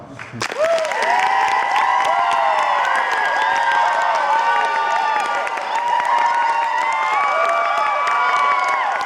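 Audience at a LeakyCon 2013 reading claps steadily, the sustained applause mixed with lively crowd voices, high shouts and cheers from children, loud and close throughout.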